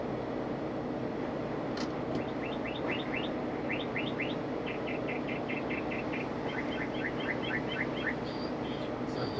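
A mockingbird singing a run of quick repeated chirping phrases, moderately close over steady outdoor background noise, with short pauses between bursts; no talk.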